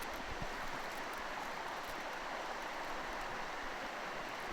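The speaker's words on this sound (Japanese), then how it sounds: "これが湧水の滝。" A spring-fed waterfall in Kumamoto pours steadily, giving a dense, continuous rush of falling water that stays even and fairly close throughout, with no voices.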